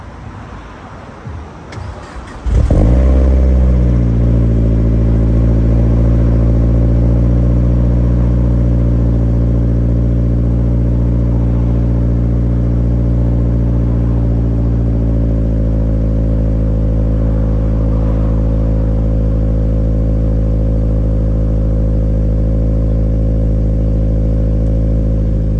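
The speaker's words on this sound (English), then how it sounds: "We're gonna go for a little cruise in the Fiat 500 Abarth." Modified big-turbo Fiat 500 Abarth engine starting up after a few clicks, then idling loud and steady with a deep, rumbling exhaust drone close by for over twenty seconds.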